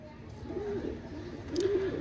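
A pair of young Oman teddy pigeons gives two soft, drawn-out coos, one about a second after the other, close by against a low background hum.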